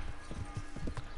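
Horse hooves clip-clop steadily in Kingdom Come: Deliverance, a quick run of close, loud, evenly spaced thuds over a faint background hum.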